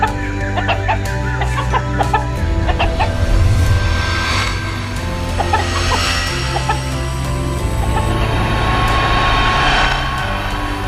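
Chickens in a palace yard cluck and squawk steadily, with several birds calling close by over a constant low rumbling background, and no one speaking.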